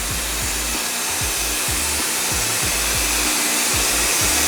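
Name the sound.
spray adhesive sprayed onto headliner board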